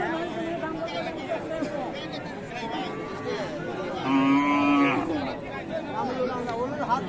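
A cow with a calf at a Raniganj cattle market in Dinajpur lets out one fairly close moo lasting about a second, heard among steady crowd chatter while someone talks nearby.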